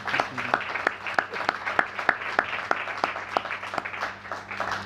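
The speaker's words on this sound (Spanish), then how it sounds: "¿Pueden darle un aplauso al muchacho" Audience at a talk clapping for a young man, the crowd's applause overlaid by a few prominent, evenly spaced loud claps near the microphone in a steady rhythm.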